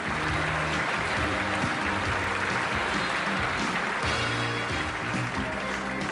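Studio audience applauding at the end of a TV host's monologue on a variety show, a steady dense wash of clapping filling the whole stretch with some faint voices mixed in.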